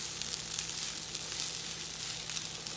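Shrimp fried rice sizzles steadily in a hot pan, a continuous soft frying hiss with no talk.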